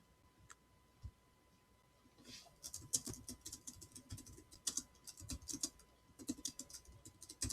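Fingers typing a comment on a computer keyboard, a quiet scatter of close key clicks that starts sparse and becomes busier, irregular tapping with short pauses.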